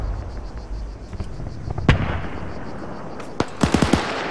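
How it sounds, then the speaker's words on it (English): Gunfire in a WW2 co-op video game: a sharp single shot, then a quick cluster of cracking shots near the end over a low rumbling battle background. "we're still taking shots somewhere"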